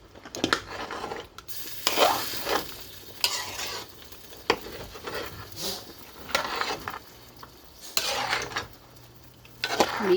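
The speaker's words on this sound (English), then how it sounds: "stir it up." Stirring Jamaican curry goat in a pot, with repeated scraping and clinking of a utensil against the metal pot over a soft sizzle, close and rhythmic with no talking.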